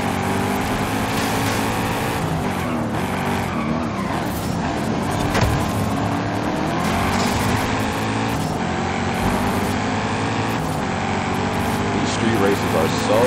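A Ford Mustang RTR drift car in the Forza Horizon 5 racing game roars steadily with constant engine drone and tire noise throughout, loud and continuous without a break.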